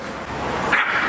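Dogs on leads in a town barking at another dog, a loud, close burst of barks and yips with noisy street background.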